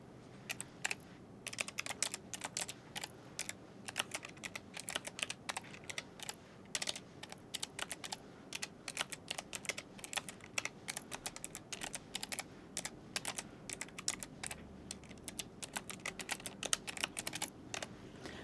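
Rapid clattering keystrokes on a computer keyboard, typed in quick irregular bursts close to the mic for the whole stretch, with no talking.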